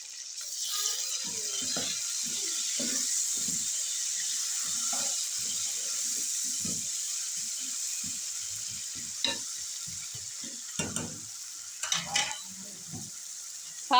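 Tomatoes drop into masala frying in a pan for Punjabi arvi salan, bringing a steady hiss of sizzling oil with scattered clacks and scrapes of a spoon near the end.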